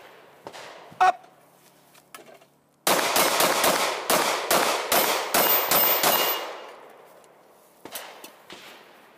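Rapid pistol shots from a Springfield XD Mod 2 fired at pop-up targets on an outdoor range, a loud close string of about ten sharp cracks after a few faint clicks, then a short pause and two more shots.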